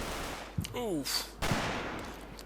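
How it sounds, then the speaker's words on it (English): Single rifle shot in Combat Mission Battle for Normandy, a short sharp crack followed by a second report amid low background game ambience, fairly quiet overall, with a brief tonal sound in between. "Single rifle shot to the back."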